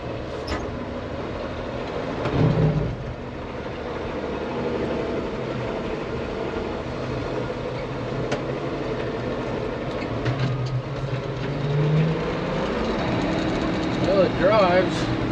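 A Chevrolet C20 truck, smoking heavily, rumbles along the road with a steady, droning engine note heard from inside the cab, and a voice comes in briefly at times.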